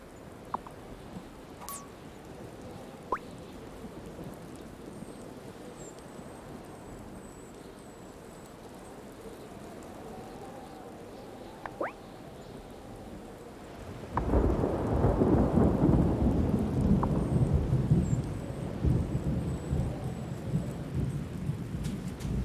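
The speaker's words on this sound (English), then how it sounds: "I call a storm upon the sea to bring that glistening pearl to me." A magic storm in the video game Wylde Flowers, conjured over the sea: steady rain hiss with a few sharp cracks early on, then a sudden loud rumbling burst of thunder and heavier downpour that keeps roaring to the end.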